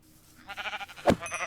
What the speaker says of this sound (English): We have these sheep over here.